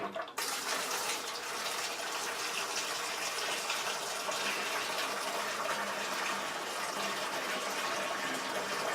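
Liquid drains steadily out of a homebrew fast-ferment conical fermenter through its port on a stand, a continuous close, even gushing pour with no pauses.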